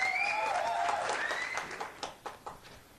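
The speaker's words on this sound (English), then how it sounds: "Please clap your hands together for the first guest" An audience applauds a guest at an interview event, a dense wash of clapping that thins out into a few separate loud claps near the end.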